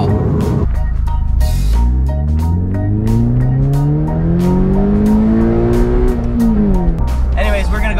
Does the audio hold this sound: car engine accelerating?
yes